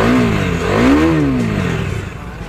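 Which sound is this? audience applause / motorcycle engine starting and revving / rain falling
motorcycle engine starting and revving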